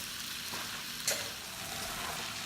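Curry cooks in a pot with a quiet steady sizzle and simmer, and a single brief stir scrapes in the pot about halfway through.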